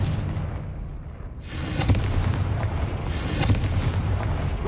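A Confringo fire spell explodes in the video game Hogwarts Legacy, giving a booming blast followed by a second burst and a sustained roaring rumble, loud and close, with no talk over it.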